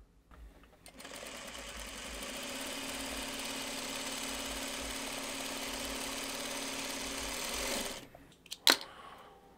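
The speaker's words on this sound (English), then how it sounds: "I sewed my half square triangles on both sides of that diagonal line" A sewing machine stitching quilt half-square triangles whirs in a steady, even run for about seven seconds, close and alone, then stops with a few small clicks.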